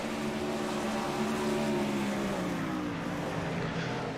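410 sprint cars race at Cedar Lake, their engines a loud, steady, high-pitched roar with shifting harmonic whine as the pack runs the final laps, no voices over it.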